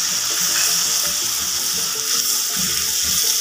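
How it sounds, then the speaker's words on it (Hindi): Ginger garlic paste fries in a pan for egg masala curry, giving a dense, constant sizzling hiss with faint low clinks and scrapes throughout, close and fairly loud, with no voices. "यहाँ पे अदरक और लहसुन का पेस्ट भून चुका है"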